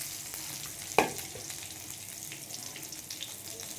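Dried chilies, bay leaf and a spoonful of five-spice seeds frying in oil in a kadai, a steady crackling sizzle with one sharp clink near the start, close and moderately quiet, no talking.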